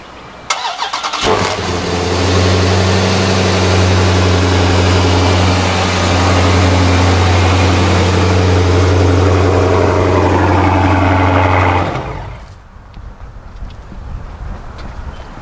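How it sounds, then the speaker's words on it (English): A car cold-starts with a short crank and catches, then idles loud and close in a steady drone for about ten seconds before the engine cuts out and goes quiet. "I'm gonna turn on the car and then see what that code is"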